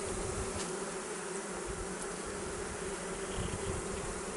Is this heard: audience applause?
no